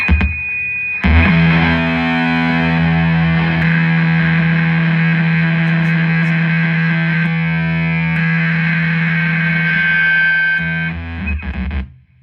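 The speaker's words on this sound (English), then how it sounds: "Maybe that's why the overload is so crazy when you turn on" A single held note through a Hungry Robot Collective distortion pedal, loud and saturated with a buzzing, overloaded tone that sustains for several seconds before cutting off.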